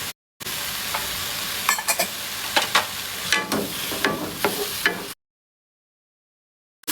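Shrimp frying in hot oil in a pan over high heat, no batter, giving a steady sizzle with occasional sharp crackles and stirring scrapes, close and moderately loud, with no talking, before cutting to silence.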